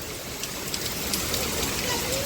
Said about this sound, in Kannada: ಹೊರಗಂತೂ ಫುಲ್ಲು ಜೋರು ಮಳೆ ನೋಡ್ರಿ